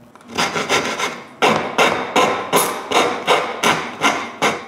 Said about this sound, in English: I need to finish the job with a rasp.